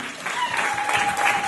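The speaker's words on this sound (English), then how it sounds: "Clap for Jesus." A church congregation in Dar es Salaam claps during a prophetic service, a brief, loud burst of dense applause from many people with a faint sustained tone running beneath it.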